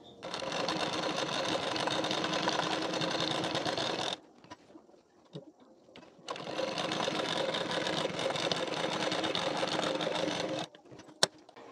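An electric sewing machine runs a fast, even stitch along the edge of a blouse belt panel, stopping for a couple of seconds of near-silence before a second long burst, ending with a sharp click.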